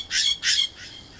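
A bird squawks twice in quick, loud, harsh bursts, followed by a fainter third call.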